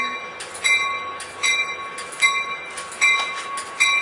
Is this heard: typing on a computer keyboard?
no